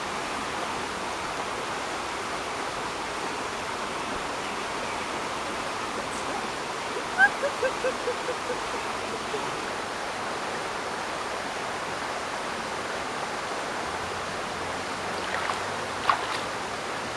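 Wissahickon Creek in the woods rushes in a steady, broad wash of flowing water, close and unbroken throughout, with a few faint light clicks and taps partway through.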